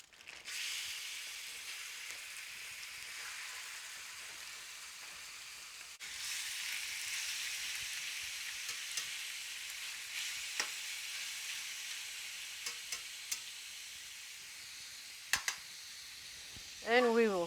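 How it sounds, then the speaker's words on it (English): A steady, loud sizzle of chicken frying in a hot skillet. It keeps going for many seconds, with a few clinks and bursts near the end. "And it's going to sizzle."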